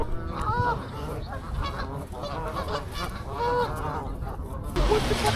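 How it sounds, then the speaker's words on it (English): Geese honk repeatedly in Central Park, New York, the calls rising over a busy outdoor background with passing traffic and a louder burst near the end. "These are New York geese."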